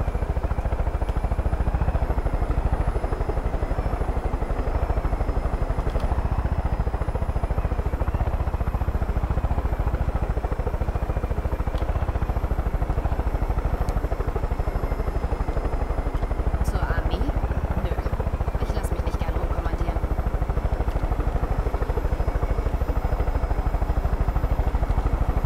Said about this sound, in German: Heli ist so lahm.